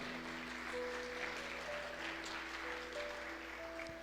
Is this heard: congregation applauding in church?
yes